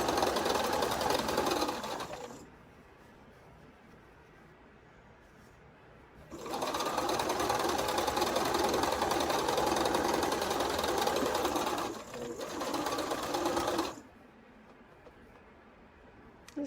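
A sewing machine stitches quilt pieces together in a steady, close running whir, broken into three long bursts separated by quiet pauses while the fabric is straightened.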